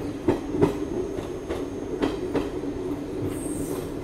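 A Bilara–Jodhpur passenger train rolls past on rails, with repeated clacking wheel joints at a steady rhythm over a continuous rumble and a faint high squeal toward the end.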